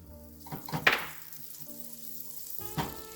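Butter frying in a non-stick skillet, a soft steady sizzle with a few brief clatters and scrapes as it melts, fairly quiet with no talking.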